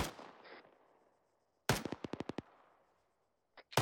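In a military shooter, gunfire comes from a tower: a single shot with a fading echo, then a tight burst of about six rapid shots, followed by two more shots near the end. The shots sound distant, each one sharp and separate.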